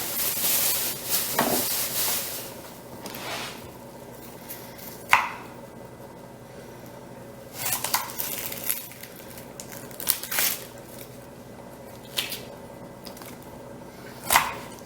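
A knife slices through a white onion on a cutting board, making a few sharp, scattered chops and crunches spaced several seconds apart, close and fairly quiet, with soft handling noise between them.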